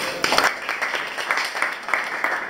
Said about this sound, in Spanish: Bien, un aplauso para todos.